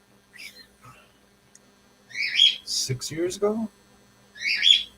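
A pet bird chirps in short, bright bursts at the start, middle and end, close by, with a voice speaking briefly between the calls.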